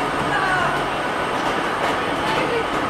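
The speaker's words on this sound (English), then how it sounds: "We'll all be on the train soon" Steady, loud train and platform rumble at a London railway station, a continuous broadband roar with faint squeals and a high whine on top.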